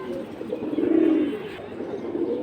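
Pigeons coo in low, rolling calls at a pigeon market, swelling to a fuller burst midway and then carrying on more softly over steady background bustle.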